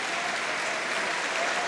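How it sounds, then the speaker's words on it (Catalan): Audience applause at a Valencian pilota final, a dense, steady wash of clapping from a large crowd, loud and continuous with no talk. "Es mereix l'aplaudiment."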